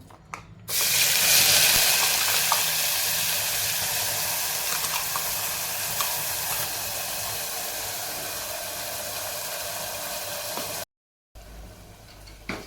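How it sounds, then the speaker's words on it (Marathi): Ground green masala paste drops into hot oil and bursts into a loud, broad hiss that holds steady for about ten seconds, easing slightly before cutting off. "तेल थोडंसं गरम झालं की त्यामध्ये टाकूयात हे मिक्सरला बारीक करून घेतलेलं वाटण"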